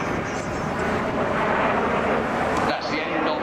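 Red Arrows display jets flying overhead at an air show at RAF Waddington, a steady broad roar that drops off sharply near the end, with a commentator speaking over it.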